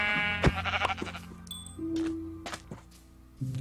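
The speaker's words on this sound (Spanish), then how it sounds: "Vamos a chingarnos esta ovejita." A Minecraft sheep bleats in a blocky game world, a few short wavering bleats mixed with thuds of hits and small game sound effects, with no talking.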